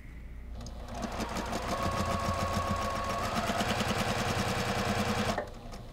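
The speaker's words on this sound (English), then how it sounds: "we're going to sew down this seam" A sewing machine stitches a quilt seam on a Halloween pumpkin-block quilt, running as a steady rapid mechanical whir and clatter for about four seconds, then stopping.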